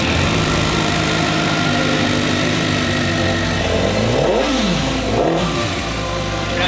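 A motorcycle engine runs loud and close, holding a rough steady idle before being revved twice, its pitch sweeping up and falling back each time.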